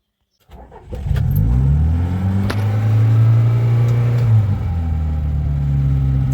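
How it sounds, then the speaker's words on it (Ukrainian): A Volkswagen Touareg that has sat unused for about a week cranks briefly after a moment of silence, catches, and settles into a steady, close engine idle that continues to the end. "Отак от, от запускається цей агрегат"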